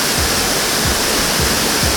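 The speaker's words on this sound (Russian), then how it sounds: "Водопад Новоафонской гидроэлектростанции." The waterfall at the old New Athos hydroelectric power station in Abkhazia roars loud and close, a dense, unbroken rush of falling water with faint low thuds pulsing beneath it.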